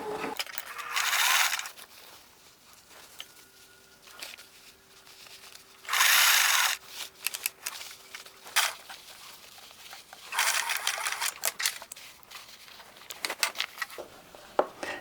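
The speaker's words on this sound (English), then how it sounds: "we're going to be sewing right on top of that white stitching on the inside." A sewing machine stitches the inside seam of a pair of pants. Several short bursts of close, fairly quiet machine whirring are separated by handling noises and pauses, with no speech.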